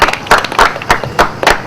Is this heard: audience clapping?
yes